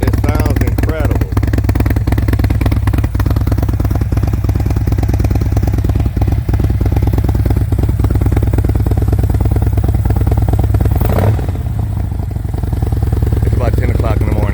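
A 2023 Harley-Davidson Road Glide with a full Tab Performance exhaust idles loud and close, a deep steady rumble with occasional throttle blips, slightly warm rather than cold, then the engine cuts out near the end.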